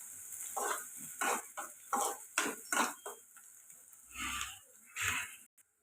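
Curry leaves being stirred into frying onions in a pan for an egg curry, with a string of separate scraping stirs over a faint sizzle and short pauses between strokes.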